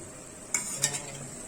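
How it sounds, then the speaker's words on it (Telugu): A spoon scrapes and clinks twice against a pan while stirring a chilli chicken spice mixture of chilli powder, Kashmiri chilli powder and garam masala, with faint bubbling simmer beneath. "ఈ మొత్తం మంచిగా మిక్స్ చేయాలండి బాగా మరిగించాలి"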